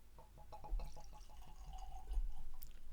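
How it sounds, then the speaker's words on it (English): Maker's Mark whiskey pours into a glass in a quiet room, a soft gurgling trickle with small drips, close by and faint, with no talk over it. "Oh, I love the sound of the pour of this one."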